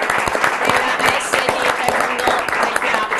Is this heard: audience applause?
yes